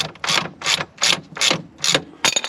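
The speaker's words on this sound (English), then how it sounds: "So we're going to undo all these track rod ends, undo all the bolts" A ratchet clicks in six quick, loud bursts, close up, undoing bolts on the steering track rod ends of a Ferrari Testarossa Spider.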